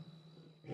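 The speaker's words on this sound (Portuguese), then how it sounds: "O urro do leão é emocionante." A wild lion's roar in South Africa rising near the end of a short moment, deep and swelling over a faint steady hum, heard at a distance without any talk.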